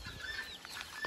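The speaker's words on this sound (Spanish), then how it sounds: "Los pollitos." Young chicks peep softly in a henhouse on a Honduran farm, a few thin high chirps over a quiet, slightly noisy background.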